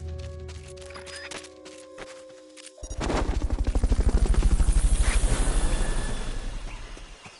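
A helicopter in the video game Metal Gear Solid: Peace Walker comes in abruptly partway through, its loud, rapid rotor chop pulsing in a steady rhythm that swells and then eases slightly.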